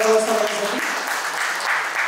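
Brief applause from an audience at a talk on government tenders for cooperative societies follows the tail of a speaking voice.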